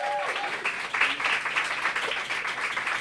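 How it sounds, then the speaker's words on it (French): Crowd applause and cheering for a guitarist at a live band concert, a moderately distant wash of clapping that holds steady for a few seconds, with brief voices near the start. "un maximum de bruit, s'il vous plaît, les applaudissements."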